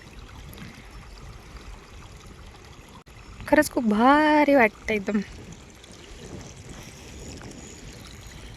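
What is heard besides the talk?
small mountain water streams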